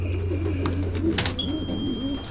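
Racing pigeons cooing close by in a basketting session before a 280 km race, soft repeated warbling coos with a low hum underneath and a brief rustle of wings.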